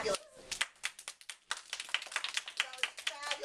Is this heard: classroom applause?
yes